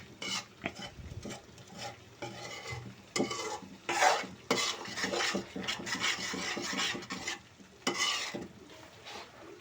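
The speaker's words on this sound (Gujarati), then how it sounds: "અને એને આપણે ઘડીક હલાવી નાખશું" Kashmiri red chilli masala frying in a pan is stirred and scraped with a spoon in uneven close strokes over a soft sizzle, with no talking.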